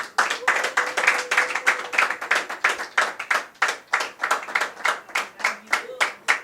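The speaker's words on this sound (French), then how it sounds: "si ses collègues peuvent encore applaudir très fort pour lui" Colleagues clap for a diploma recipient at a certificate ceremony, a rhythmic unison clapping at a steady beat, loud and close, with a faint voice briefly underneath.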